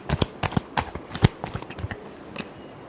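Tarot cards are shuffled by hand in a brief series of close, crisp slaps and rustles that taper off toward the end.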